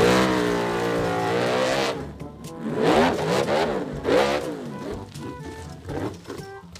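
A monster truck engine revs and roars in several surging bursts, loud and close, with rising and falling pitch sweeps between brief dips.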